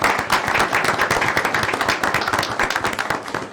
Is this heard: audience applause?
yes